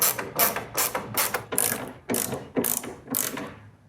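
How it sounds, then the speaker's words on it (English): A hand ratchet tightening the headlight mounting screws on a 1994 Chevy K1500 pickup, eight quick clicking bursts in an even rhythm, close and clear with no talking. "tighten all these screws down and hope that that lines them up from one side to the other"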